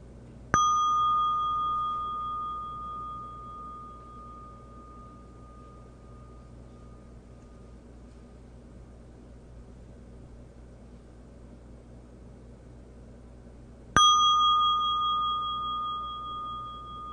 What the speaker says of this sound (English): Seeing what happens if you listen to the bell from beginning to end.